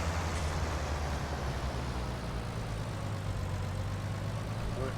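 Tractor engine in Farming Simulator 19 running steadily in a snowy farm setting, a constant low droning rumble with no breaks, loud and close throughout.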